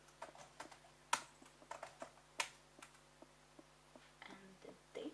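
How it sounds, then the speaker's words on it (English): Fingers typing on a computer keyboard in a quiet room, irregular clusters of close, crisp key taps over a low steady hum. "just my information that I have to type down"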